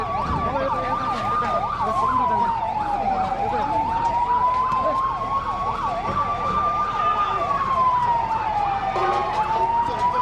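A fire engine siren wails steadily during a joint disaster-response and firefighting drill at Taumadhi, Bhaktapur, rising and falling in a loud, continuous cycle that dominates the scene.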